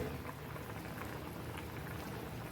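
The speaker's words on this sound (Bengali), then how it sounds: "আর এদিকে তরকারিটা খুব সুন্দর ফুটছে" A pumpkin stem and shrimp curry simmers in a pot, a soft steady bubbling and popping that stays low and even throughout with no voices.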